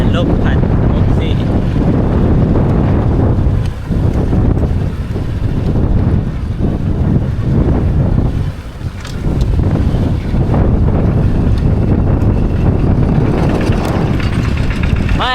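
Strong wind roars and buffets the microphone across open rice fields, a loud, continuous rush that briefly dips, with a voice speaking underneath.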